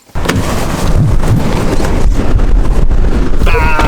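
Strong storm wind buffets the microphone as a steady, loud roar with gusting surges, continuous throughout and close up.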